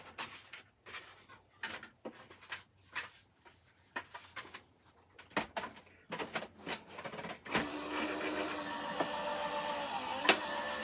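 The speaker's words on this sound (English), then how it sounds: "So obviously I'm doing this through my A4 die cutting machine." An A4 die cutting machine works through a card blank with a series of uneven clicks and mechanical clunks, then settles into a steadier, louder motorized grinding hum toward the end.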